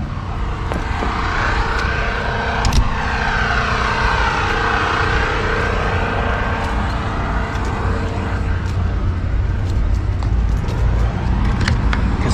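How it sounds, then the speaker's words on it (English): RV camping generator running outdoors on a foggy day, a loud steady engine drone with a constant hum that holds unbroken throughout. "Let's go get that generator started."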